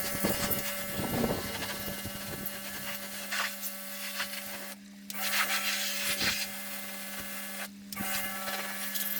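A jet washer blasts water across stone pond capstones in a steady, loud rushing hiss over a droning pump motor, cutting out briefly twice when the trigger is released.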